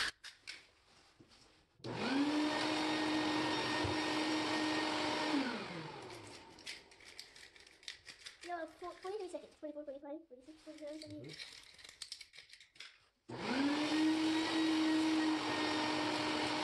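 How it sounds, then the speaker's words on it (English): A vacuum cleaner sucks loose debris out of cracks in a bamboo wood floor, running in two steady whining bursts with a quieter scraping pause between them, while someone talks. "as I clean, I'm going to vacuum the stuff that's coming out, the loose debris that is coming out"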